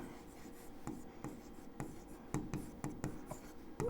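Pen scratching on paper while working a maths problem, quick irregular strokes and taps close by, soft and steady with faint room noise.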